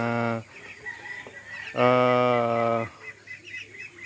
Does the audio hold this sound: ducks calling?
yes